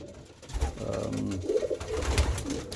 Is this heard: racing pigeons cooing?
yes